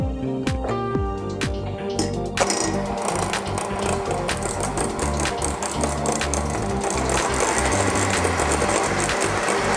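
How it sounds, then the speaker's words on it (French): Egg whites and sugar being beaten into a French meringue, likely with an electric mixer, a steady dense mechanical whir that starts quieter and becomes a louder, fuller drone after a couple of seconds, continuing alone without voices. "je vais y ajouter le restant de sucre et continuer à fouetter jusqu'à l'obtention d'une meringue lisse et bien"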